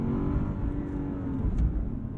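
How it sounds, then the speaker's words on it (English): A deep, throaty V8 engine of a 2021 Lexus RC F Fuji drones steadily at close range, its low rumble holding a rough, even growl throughout with no voices. "Blame that V8, makes a great noise"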